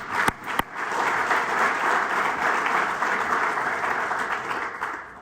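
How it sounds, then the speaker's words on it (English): An audience at a parks chamber annual meeting applauds for Craig, producing a steady, dense wash of clapping that holds for several seconds after two sharp opening claps. "Craig, you deserve another round of applause"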